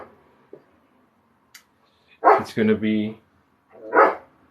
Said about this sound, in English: Like, for instance, that's my dog barking there.